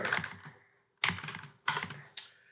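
Computer keyboard typing at a desk while starting Emacs, three short bursts of close, clattering keystrokes separated by brief pauses.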